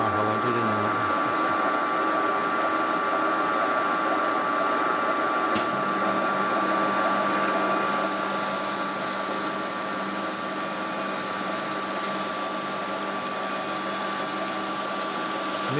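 A Ransomes MG grinding machine works a 600cc petrol engine crankshaft, giving a steady, loud mechanical whine and hum that runs throughout, with the tone shifting slightly partway through.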